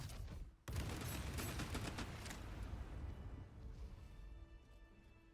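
Fatal Barrage ranged volley in Baldur's Gate III: a sudden loud burst of rapid overlapping shots and impacts that rolls on as a dense, rumbling clatter before slowly thinning out, alone without voices.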